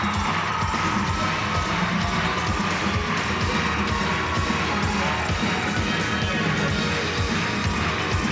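Arena crowd at the 2008 World Figure Skating Championships men's free skate roars and cheers steadily, a dense, continuous wash of noise with no pauses, loud and enveloping throughout.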